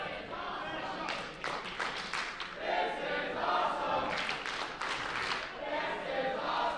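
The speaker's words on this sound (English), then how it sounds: "Crowd showing their appreciation to both men." A crowd at an independent wrestling show in Barrie cheers and claps for both wrestlers, a steady wash of applause and shouts with a commentator's voice running over it.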